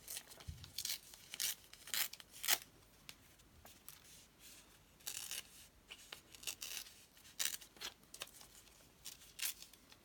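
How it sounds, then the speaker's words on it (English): Paper being torn slowly by hand around a Santa picture for a Christmas junk journal, soft ragged rips and rustles coming in uneven bursts, close and fairly quiet. "So I'm fussy tearing."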